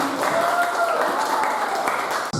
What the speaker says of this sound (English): Let us give applause again for this teaching.